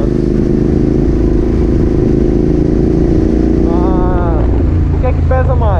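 A GT650R motorcycle engine hums steadily while riding through city streets, with a loud, continuous low drone close to the rider and a voice joining near the end.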